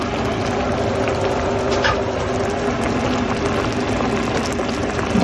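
Taro leaves simmer in a pot of coconut milk, giving a steady, close bubbling and gentle boil that runs evenly throughout with no voices.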